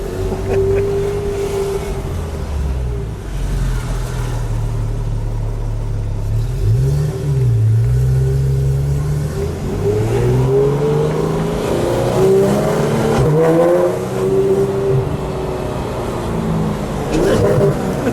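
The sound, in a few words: sports car revving with open exhaust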